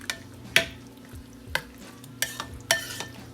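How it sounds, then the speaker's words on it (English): Lasagna ingredients stirred in a slow cooker crockpot: a spoon scrapes and knocks against the pot in several distinct strokes, with sharp clacks spaced irregularly over a quiet background. "so you're going to stir this now that you got everything in there"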